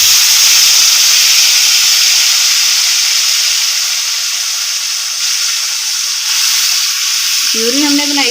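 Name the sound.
tomato-onion puree added to spices sizzling in pan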